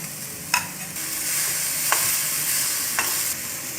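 Karamani sundal stirred in a pan with coriander leaves, a continuous sizzle punctuated by three or four distinct scraping strokes of the spoon, close and fairly loud with no talking.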